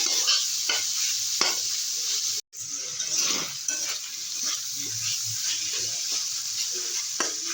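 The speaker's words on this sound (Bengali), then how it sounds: "আর দু মিনিট কষিয়ে নেব" Ingredients being stir-fried for chow mein in a pan at home, a steady close sizzle with scraping stirs and light clinks running throughout, with one brief dropout midway.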